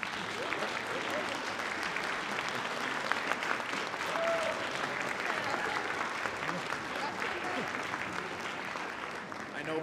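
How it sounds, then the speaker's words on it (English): Steady applause from an audience at an honor band concert fills the whole stretch, even and dense with no pauses, while a few voices murmur faintly beneath the clapping. "give them a round of applause."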